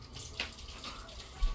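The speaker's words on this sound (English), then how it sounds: "I'm just using regular tap water." Regular tap water runs into a pressure canner, a soft, steady rush close by with a faint splash near the end.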